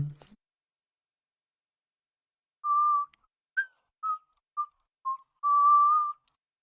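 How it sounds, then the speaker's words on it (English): A person whistles a short tune, several brief clear notes followed by one longer held tone, close and fairly loud against silence. "Chat, is me whistling?"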